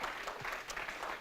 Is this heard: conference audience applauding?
yes